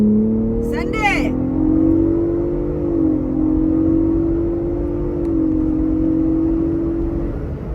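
A Ford Bronco Raptor accelerating on the road, with a loud close engine drone rising and holding steady inside the cabin while people talk over it.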